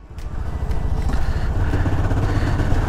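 A motorcycle rides a bumpy mountain road in Pin Valley, its engine drone steady and close, with wind rush and jolting thumps throughout.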